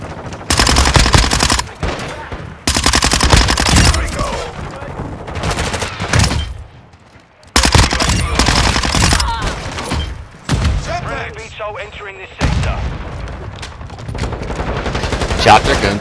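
Dense bursts of automatic gunfire from a Modern Warfare II team deathmatch, loud and close, coming in long rapid volleys separated by short gaps, with a player talking over the action.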